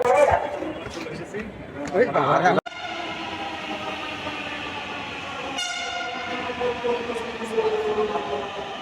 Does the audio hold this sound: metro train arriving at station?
yes